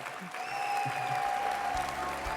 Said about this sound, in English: One more round of applause for all of our Spotlight teachers.